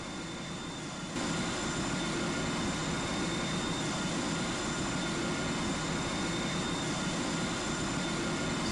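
Jet engines of an Airbus A350-1000 in the GeoFS flight simulator run as a steady, dense roar with a thin whine, swelling slightly about a second in and then holding constant.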